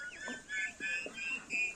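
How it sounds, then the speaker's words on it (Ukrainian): Farmyard turkeys give faint, repeated high plaintive calls, about five short cries in a loose rhythm at a moderate distance, as light rain begins. "Плакають індики."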